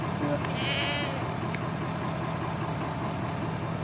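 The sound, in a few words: goats bleating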